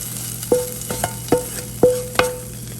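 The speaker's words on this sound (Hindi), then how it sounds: "ये हमारा तड़का जाने लगा दाल के ऊपर।" Hot tempering oil poured over cooked lentils crackles and hisses in sharp bursts, several quick pops each trailing off into a sizzle, close and loud with a steady hum beneath.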